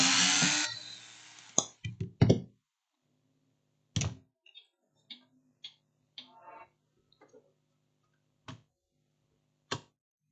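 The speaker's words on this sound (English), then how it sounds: "I'm taking out all the screws so that we try to get inside this speaker." Screws being removed from the casing of a Digmark DGM-15BT mobile speaker, heard as a burst of rattling handling noise followed by scattered close, sharp clicks and light taps that come one at a time over quiet gaps.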